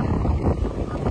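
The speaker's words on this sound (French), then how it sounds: "le vent est monté à 22 nœuds réels" Strong wind at sea aboard a sailboat blowing around 22 knots, a steady loud roar buffeting the microphone with water rushing beneath, continuous and close throughout.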